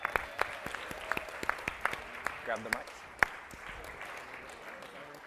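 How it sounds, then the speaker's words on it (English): A workshop group gives itself a round of applause: sharp scattered claps, loudest early, thinning to a softer patter, while someone briefly speaks over it. "Give yourselves a round of applause."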